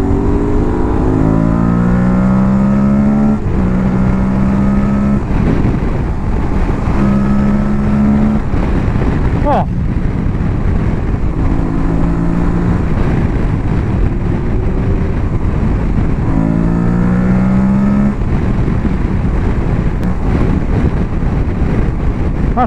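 An Aprilia Tuareg 660 adventure motorcycle on a test ride accelerates repeatedly through the gears, engine revving rising in pitch then dropping at each shift, loud and close over constant heavy wind roar.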